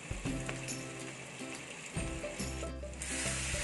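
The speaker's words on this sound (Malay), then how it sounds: "Tumiskan sampai bau rempah-rempah hilang selama 1 minit." Steady sizzling of ground coriander and cumin sautéing in a hot pan, continuous and close, with faint clinks and stirring scrapes.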